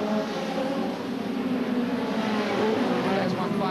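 Hot rod race cars at the 1983 Hot Rod World Final, with backmarkers and leaders battling on a track with long straights and wide bends. A loud, sustained engine roar persists throughout, with a commentator's voice running over it.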